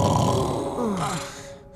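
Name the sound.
cartoon uncle snoring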